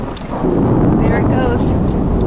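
Thunder rumbles during a thunderstorm in a Utah canyon near creek falls, a loud, sustained low roll that swells after a quieter start and fills the whole clip with no talk.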